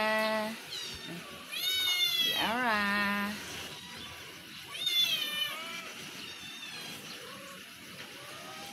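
A cat meows several times, with drawn-out rising and falling cries, fairly close, over a faint background hiss, and a brief voice at the start.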